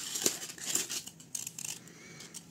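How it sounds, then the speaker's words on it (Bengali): A blade cuts a thermocol sheet to shape a gate for a temple model. Short crisp snips and crunches come close and fairly quiet, each a separate cut, with no voices. "এখন থার্মোকল কাটছি গেটের জন্য"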